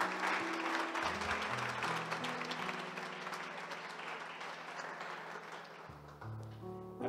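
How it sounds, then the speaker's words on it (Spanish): A small audience applauds for a boy named Moisés, a steady spatter of clapping heard over sustained background music tones, fading somewhat toward the end as the music shifts. "Un aplauso para Moisés, por favor."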